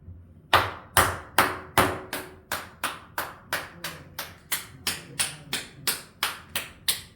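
A church congregation claps during a Sunday morning worship service: about fifteen sharp, evenly paced claps in a steady rhythm, loud and clear with no talk over them.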